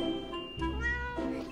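A cat meows close by in a couple of short, plaintive calls in a quiet indoor room, with no talking over it.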